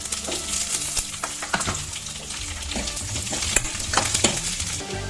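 Onions sizzling and frying in a hot pan while being stirred, a steady crackle broken by scraping stirs at close range.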